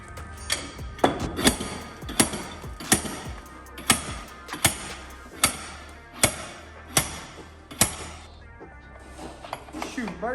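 Hammer beating out a damaged quarter panel on a wrecked Mercedes CLS63 AMG in a garage, about a dozen sharp metallic knocks in an uneven rhythm, close and clear, with some voices in the background.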